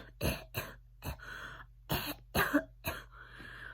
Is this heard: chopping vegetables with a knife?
no